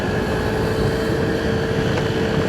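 A Yadea Keeness electric motorcycle climbing a steep hill at Puncak, Bogor in sport mode gives a steady, moderately loud whine and rushing hum. Heavy wind roar over the microphone runs underneath, and no one speaks.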